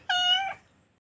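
A cat meows once indoors, a single clear, fairly close cry lasting about half a second and then fading out.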